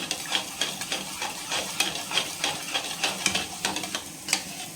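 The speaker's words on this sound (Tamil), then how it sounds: "ஸோ இப்போது இந்த எக்கு பீட் பண்ணிக்கலாம்" Eggs beaten for an omelette give rapid, rhythmic clicking taps of a utensil against a bowl, steady and close for several seconds with no talk.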